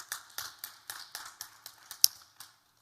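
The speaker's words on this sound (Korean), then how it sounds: "그들에게 우리가 축복의 박수 한번 하겠어요." A church congregation claps together in a quick, fairly even run of about ten sharp claps over two seconds, with one louder crack near the end before it stops, heard close and without talk.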